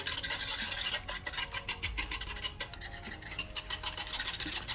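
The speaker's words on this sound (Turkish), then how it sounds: "Güzelce karıştırıyorum" A spoon stirs a sugar and cocoa mixture in a pan, producing a steady, continuous scraping rasp with quick repeated strokes, close and fairly quiet, with no talking.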